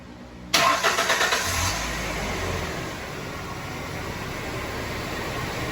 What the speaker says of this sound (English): I'll start it and give it a little gas